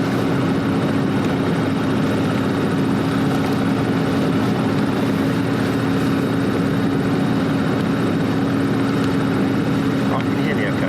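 A motor glider's engine running steadily before taxiing, a loud constant drone with a low hum heard from inside the cockpit, with voices talking over it.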